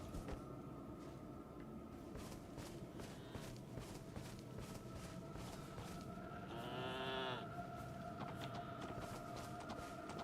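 Sheep bleat in an eerie video game, one wavering bleat standing out over a steady ambient drone and soft footstep-like sounds, fairly faint overall.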